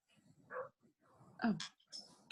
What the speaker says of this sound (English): there's a dog barking outside of my office